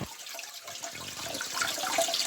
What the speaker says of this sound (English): When you actually flush the toilet, it just trickles round the bowl,